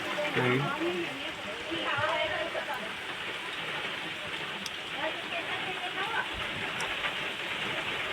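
Steady rain hisses continuously on hills near the Khodiyar Mata temple at Gaya Sar, close and fairly loud, with a voice speaking briefly at the start.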